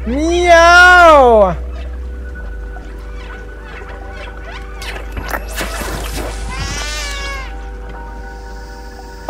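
A cat in the Stray video game meows twice: a loud, drawn-out cry at the start and a shorter one later, with quiet game ambience and small clicks in between.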